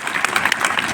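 Crowd at an outdoor Hindi kavi sammelan poetry recital in Mangrol claps loudly, a dense, continuous burst of many hands clapping at once, close and unbroken for the whole moment.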